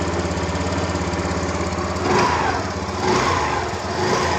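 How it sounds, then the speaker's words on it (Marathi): A TVS Jupiter BS6 scooter engine runs steadily just after starting, with a close, even idling drone that rises slightly in the last two seconds. "गाडी देखील चालू आहे."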